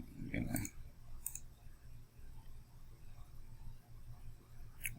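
Computer mouse clicks at a desk: a sharp double click near the start, then a couple of lighter single clicks, over a low room hum with no speech.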